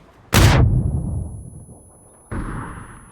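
In PUBG on the Erengel map, a player fires at a moving bicycle, producing a loud, sharp gunshot followed by a long decaying boom. A second, thinner crack sounds about two seconds later.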